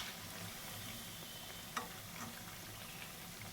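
Lentil fritters (dal bora) frying in oil, a faint, even bubbling sizzle with one brief tap partway through, quiet and continuous with no speech.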